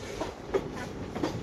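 A train running along the rails through hilly country between Guwahati and Mahur, heard from on board as a steady low rumble with faint rhythmic clicks over a brief stretch.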